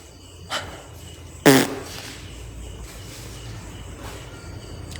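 A single short fart at a spooky abandoned factory, one brief burst standing out against quiet background ambience with a fainter puff just before it.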